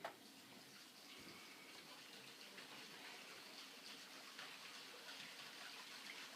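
Water runs steadily from a tap somewhere upstairs in a house, a faint continuous rushing hiss that carries on without a break, with no voices over it.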